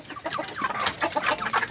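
Free-range native village chickens clucking close by in a soft, irregular series of short calls, moderately quiet with no talk.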